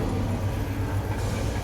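A 1967 Ford F600 truck creeping in low reverse with the clutch let out, a steady low engine drone close by with no talking.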